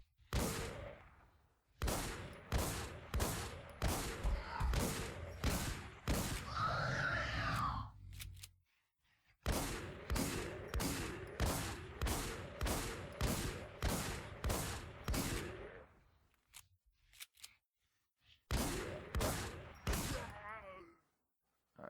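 Video game gunfire in Infestation: Survivor Stories aimed at a super zombie: rapid, loud repeated shots in two long bursts with a brief pause between them, and a growl partway through.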